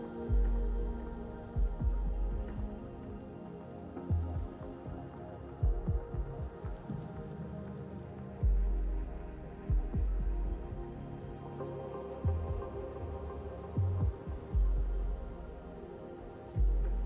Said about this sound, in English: bring your attention to the sound of your breath, and if you are able, your heartbeat.